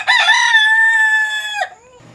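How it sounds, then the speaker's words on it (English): A loud rooster crows once nearby, a single sustained cock-a-doodle-doo of about one and a half seconds that rises, holds steady and then breaks off, with a faint quieter tail after it. "Ignore that loud rooster right there."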